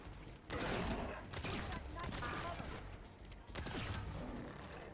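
Gunfire in the Halo video game: dense, loud rattling bursts of shots that cut in and out in several waves over a few seconds, with some faint talk mixed underneath.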